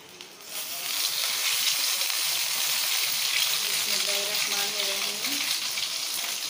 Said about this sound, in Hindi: अब हम इसको ब्रेड पर लगा के उसको फ्राई करते हैं।